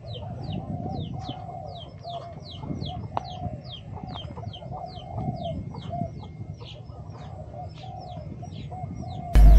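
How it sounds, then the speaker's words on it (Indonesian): Wild birds calling around a rural Malaysian village in Kedah, with spotted doves and zebra doves cooing, rapid repeated high chirps over soft low cooing, steady throughout, with a brief loud bump at the end. "Jadi kedengaran banyak bunyi burung, burung liar sebenarnya tu, burung liar, burung tekukur atau burung merbuk"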